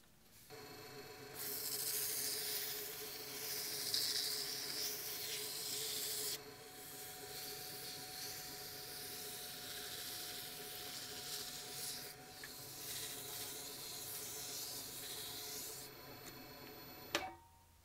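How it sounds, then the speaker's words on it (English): Fine sandpaper rubbing against a large turned dragon egg spinning on a lathe, a soft, steady hissing rasp that swells and eases in long passes, quiet and close. "So now I'm going to go put it on the other lathe and start sanding it up."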